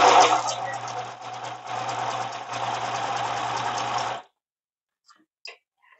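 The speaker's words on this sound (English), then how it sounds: "I'm going to make a zigzag stitch like that and pretend we're doing serging." A sewing machine runs a zigzag stitch in steady, rapid mechanical bursts for about four seconds with a brief pause midway, then stops, leaving near silence with a couple of faint clicks.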